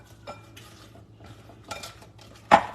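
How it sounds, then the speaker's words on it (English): Quiet clinks and scrapes of a spoon working chicken wings around in melted butter in a dish, a few soft taps ending in one sharper knock against the side. "So you just want to coat your wings with the butter."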